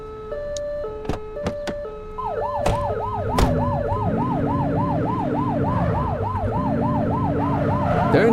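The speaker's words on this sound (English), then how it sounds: "Turn that siren off." Police car siren from the video game The Precinct wails in steady rising-and-falling cycles after a few short electronic blips, loud and close over a low engine rumble.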